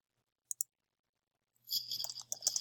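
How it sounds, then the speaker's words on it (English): A computer mouse clicks a submit button, giving two quick faint clicks in near silence, followed by a brief burst of soft clicking and rustling. "Click submit."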